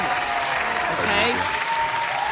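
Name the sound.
audience applause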